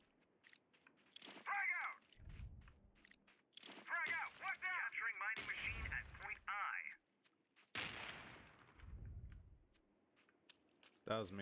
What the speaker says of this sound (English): That was me throwing grenades.